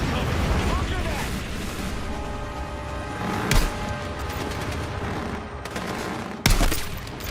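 Rapid gunfire and bursts of automatic weapons fire in a video game battle, steady and dense throughout, with two sharp louder blasts standing out, under shouted voices calling out orders.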